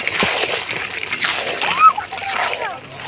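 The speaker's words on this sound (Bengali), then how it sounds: "মাংস কষানো হয়ে গেছে, এবার জল দিয়ে দিব।" Water is poured into chicken curry cooking in a pot, producing a close, sloshing splash under a speaking voice.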